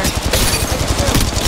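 Dense, loud gunfire in Apex Legends Mobile, a fast continuous rattle of shots packed close together with no gaps.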